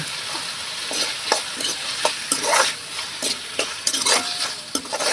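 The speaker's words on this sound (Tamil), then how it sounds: "வெங்காயம் தக்காளி வதங்குறதுக்கு கொஞ்சமாக உப்பு சேர்த்திக்கலாங்க" Tomatoes and onions sautéing with salt in a pan for dhaba-style chicken varuval, a bright close sizzle punctuated by rhythmic scrapes and clinks of stirring, with no one speaking.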